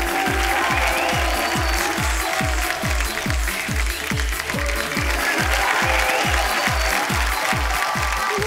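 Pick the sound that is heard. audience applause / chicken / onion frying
audience applause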